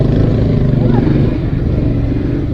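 A 100cc motorcycle idles and putters steadily while being parked on a city street in Multan, its engine note loud and close throughout, with a slight drop in level toward the end.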